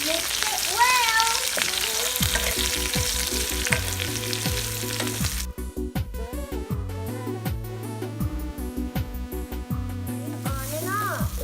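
Bitter gourd slices seasoned with turmeric, chili powder and salt fry in a home kitchen pan with a soft steady sizzle, half buried under a loud looping background melody and brief stirring.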